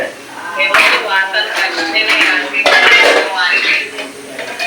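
Pots, pans and utensils are banged and clattered about in anger, with loud metallic clanks coming in uneven bursts while people talk.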